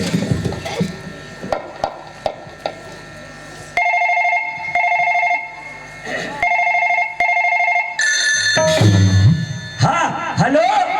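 A telephone rings at a police station set in a Chhattisgarhi nacha gammat stage play: loud, electronic two-tone bursts repeat several times with gaps between them, over crowd noise and voices.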